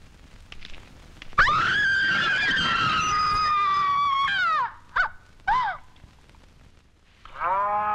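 A water buffalo lets out a long, loud lowing call, followed by two shorter bellows and another call starting at the end, close by with some background noise.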